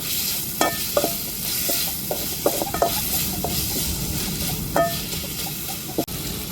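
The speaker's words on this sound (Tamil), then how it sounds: "இப்போ இஞ்சி பூண்டை நல்லா வதக்கி விட்டாச்சுங்க" Ginger garlic paste sautéing in a pan for a squid stir-fry, a steady close sizzle broken by scattered scraping clicks of a spatula stirring, with no voices.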